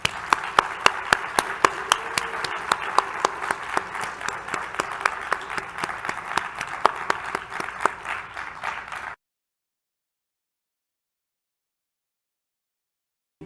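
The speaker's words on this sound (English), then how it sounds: "Let's give them a round of applause" A large conference audience applauds in a steady, dense round of clapping that lasts about nine seconds, then cuts off abruptly into silence.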